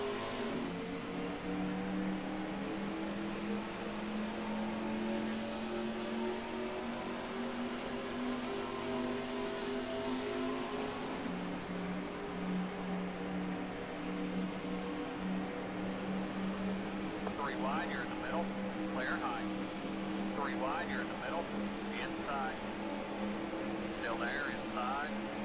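Stock car engines roar in the NASCAR Racing 2003 video game at Daytona, a continuous dense drone with a steady engine pitch that shifts midway, cars in a pack under occasional faint talk.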